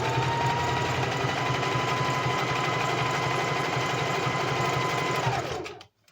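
A sewing machine runs steadily with pumpkin-colored thread, a close, continuous rapid whirring stitch that holds for about five seconds before slowing and stopping abruptly.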